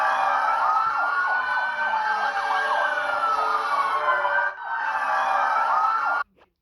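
Vietnam's emergency alert system alarm, a loud, harsh siren-like wail with rapidly warbling, sweeping tones over a dense layered drone, briefly dipping near the end before continuing and then stopping abruptly.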